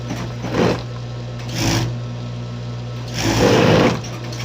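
A sewing machine stitches a blouse in a steady, loud whir, with short bursts of faster running that rise and fall three times, and no talk.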